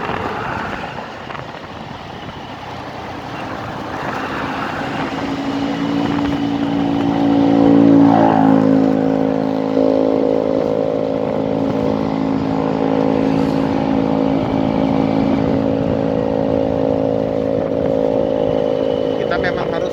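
Honda Vario motorbike ridden across the Musi Dua bridge in Palembang, a steady engine drone with passing traffic and wind rush, swelling briefly midway and holding loud and close throughout.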